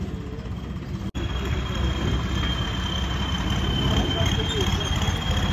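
A Swaraj 855 tractor engine idling at a repair shop, giving a steady, continuous low drone throughout with one brief dropout near the start.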